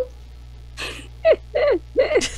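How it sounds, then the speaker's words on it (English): A few short, breathy gasping vocal bursts, each sharp and sudden with brief pauses between, ending in a quick rising sound, heard close over a low steady hum. "That gasp."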